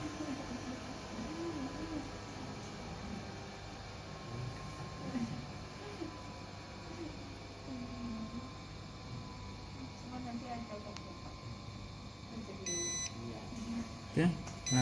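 A refrigerated Eppendorf 5424R centrifuge hums steadily while people talk, then its finish alarm gives a short series of quick electronic beeps near the end.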